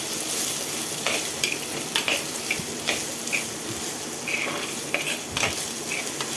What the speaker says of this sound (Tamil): இப்போ நம்ம இந்த ஸ்டேஜில் இஞ்சி பூண்டு விழுது சேர்த்துக்கலாம். இஞ்சி பூண்டு பச்சை வாசனை போகிற அளவுக்கு நல்லா வதக்கி விட்டுறணும்.